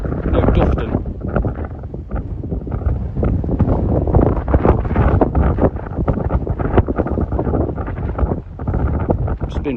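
Strong wind buffets the microphone on a hillside during a walk, a loud, rumbling roar that gusts unevenly and never lets up.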